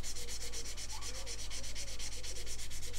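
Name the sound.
hand sanding a model fuselage with 800 grit sandpaper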